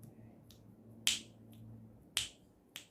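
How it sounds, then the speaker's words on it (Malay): Finger snaps from a teacher, a few sharp, dry clicks spaced about a second apart, some louder and some softer, over a quiet room with a faint low hum. "Susah cikgu nak petik jari."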